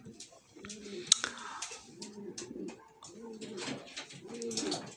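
Pigeons coo in a loft in repeated rounded, rhythmic bursts, close and clear, with soft rustling and clicks around them and a voice speaking faintly at times.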